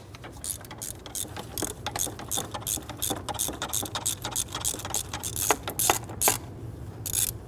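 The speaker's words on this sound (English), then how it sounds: "We're going to use our stubby extension, get on in there, loosen and remove this one." A ratchet on a stubby extension loosens a 15mm bolt on a 1999-2004 Jeep Grand Cherokee 4.7L V8 intake manifold, giving rapid, close clicking in quick bursts.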